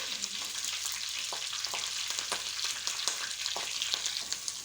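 Steady crackling sizzle of fresh curry leaves frying in hot oil for a dal tarka, with occasional sharper pops and stirring clinks, close and continuous.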